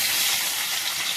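Potatoes frying in hot oil give off a brief, steady, bright sizzling hiss at close range with no talking.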